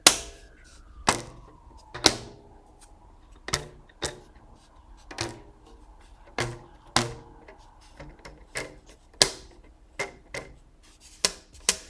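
Rubber bands stretched over screws on a homemade rubber band board are plucked one at a time, each sharp twangy ping decaying quickly, spaced about a second apart and heard close and alone.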